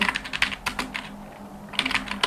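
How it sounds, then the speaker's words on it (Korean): Typing on a computer keyboard while entering an address into accounting software: quick bursts of clattering keystrokes, a brief pause, then another run of key taps, with no talking. "그냥 손으로 타이핑 치세요."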